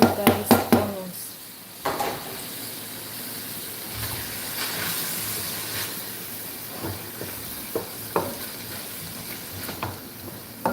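Finely diced onions sizzle with meat in a pan for spring roll filling, a steady hissing fry punctuated by clinks and scrapes of a utensil against the pan.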